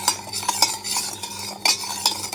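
A spoon stirs and mixes ingredients in a pan with rhythmic scraping and sharp metallic clinks at close range, over a faint sizzle and with no speech.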